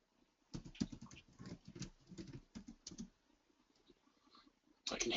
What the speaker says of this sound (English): I can hear some typing going on.